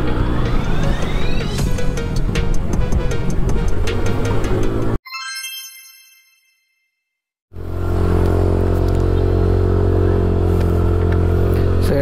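A motorcycle on the road, a steady engine drone with wind rumble for about five seconds, then a brief high electronic chirping and silence before the engine noise returns, loud and close.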